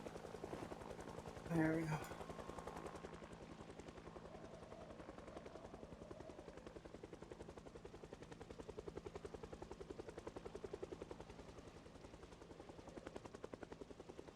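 A video game helicopter drones steadily with a rhythmic rotor chop through the whole stretch, alongside occasional sharp gunfire-like pops. Someone briefly speaks over it near the start.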